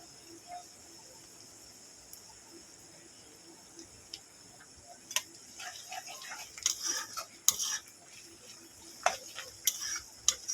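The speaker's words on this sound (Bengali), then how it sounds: "হালকা লাল করে ভেজে নেবো পেঁয়াজটাকে" Onions frying in two spoonfuls of ghee in a pan for beef shahi korma, a faint steady sizzle with light scraping stirs and clinks of a utensil growing busier toward the end.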